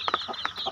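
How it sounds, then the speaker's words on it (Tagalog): A dozen chicks cluck and cheep at noon feeding time, with short bursts of close, overlapping calls. "Paano ako magpakain ng sisiw?"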